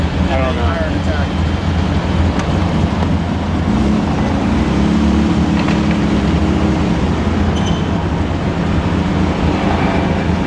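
A Toyota 2000 GT arriving at the Los Angeles Auto Show, its engine a loud, low rumble close by that sweeps across the whole clip, with voices and crowd noise around it.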